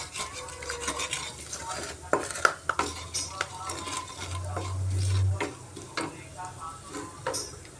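A spoon repeatedly stirs and scrapes cinnamon and cardamom tempering frying in oil, with light sizzling and occasional clinks against the pan, close up and steady, plus a brief low hum partway through.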